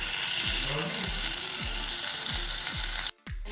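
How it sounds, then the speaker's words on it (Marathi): Boiled potatoes dressed with lemon, sugar, salt and coriander being mixed and fried in a pan for potato bhaji made without onion, ginger or garlic, a steady close sizzle with regular stirring scrapes and a short break near the end, no talking. "ते चांगलं मिक्स करायचं आहे."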